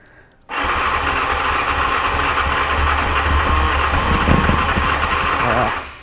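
A 1989 Yamaha FZR600 motorcycle engine on choke catches after a short silence and settles into a loud, steady idle with a constant mechanical drone for several seconds before dropping at the end.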